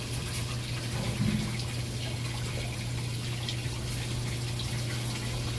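Steady rushing water drains continuously from a full laundry tub with a low hum underneath, a constant even flow throughout.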